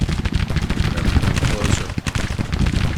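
Civil War musket and cannon fire in the strategy game Grand Tactician, a dense, continuous rumble of overlapping shots and booms that stays loud and steady throughout.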